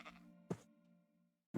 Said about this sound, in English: Where is my Jeb sheep